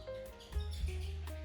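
Canaries in a breeding room at a breeder's aviary give faint, clear chirps and brief whistled trills over a low background hum, with short gaps between the calls.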